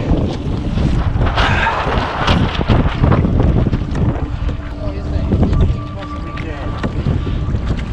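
Wind roars steadily across a Hobie Tandem Island sailboat on the Murray River as it sails with a failing rudder, a loud continuous buffeting rush with water sounds mixed in throughout.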